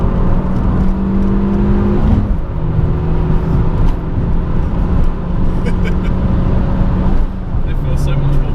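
An Abarth 695 Biposto Record Edition engine growls loudly from inside the car, with harmonic revving that rises, drops and climbs again over a steady road roar, and voices are heard at times.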